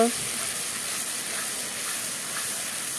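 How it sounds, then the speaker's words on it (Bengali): Spices sauté with browned onions in a pan, giving a steady, even hiss and sizzle with faint, brief sounds drifting above it. "মশলাগুলো দিয়ে ভালো করে কষিয়ে নেব"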